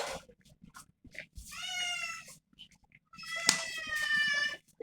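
A kitten meows repeatedly in a quiet home, with several drawn-out cries in two clusters separated by short pauses, close and clear.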